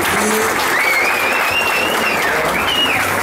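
An audience at a mountain bike race award ceremony claps in a dense, steady ovation that fills the whole stretch, with a faint whistle or voice riding over the top.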